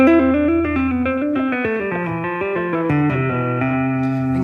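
An electric guitar plays a plain scalar lead line, single notes stepping up and down in an even run, sustained and loud and close, with no talking.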